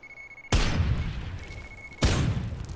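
Weapon shots exploding in the video game Worms Revolution: two heavy, booming blasts with long rumbling tails, the second coming about one and a half seconds after the first, over a steady faint tone and no talking.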